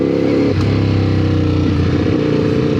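Ducati Panigale V4S superbike ridden through city traffic in Bangkok, its engine a loud, close, continuous low rumble with a rhythmic throb and slight pitch changes throughout, with no talk.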